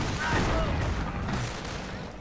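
Bazooka and rocket fire ring out against a Panzer IV tank in a WWII strategy video game. The battle noise forms a dense, continuous wash under a commentator's voice.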